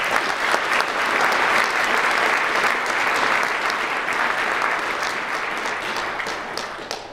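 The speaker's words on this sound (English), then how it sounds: "So let's give them a quick round of applause." An audience at a guest speaker event gives a round of applause for the sponsors, full clapping that holds steady and slowly tapers off toward the end.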